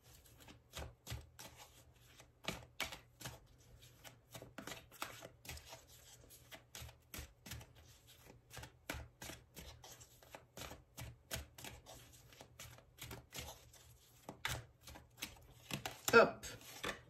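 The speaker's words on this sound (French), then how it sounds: "on va piocher des cartes pour voir un petit peu avec ce jeu" A tarot deck is shuffled and cards are drawn in a run of soft, close, rhythmic slaps and taps over a faint low hum, ending in a louder flurry of handling.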